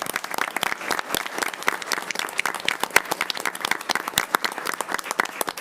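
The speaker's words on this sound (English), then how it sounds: "So the last round of applause, please, for Ms." Lively applause from a Board of Education meeting audience honoring Ms. Nelson, with many hands clapping close and loud in a thick, crackling stream that lasts several seconds.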